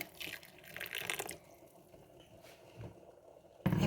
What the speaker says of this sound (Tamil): இப்போ புளிக்கு கொஞ்சம் தண்ணி விடுவோம்